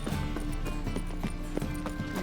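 Horse hooves clip-clop in The Witcher 3, a steady run of close, even hoofbeats over constant background game ambience, with a brief whinny-like sound mixed in.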